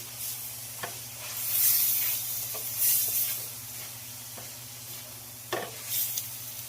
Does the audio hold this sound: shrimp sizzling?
yes